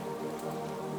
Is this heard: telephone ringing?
no